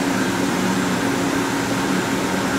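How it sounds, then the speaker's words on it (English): LK Machinery TC-1200 vertical CNC drill-tap center running with all three axes in motion, a steady loud mechanical hum and whirring drone without pauses. "Just all three axes are moving simultaneously."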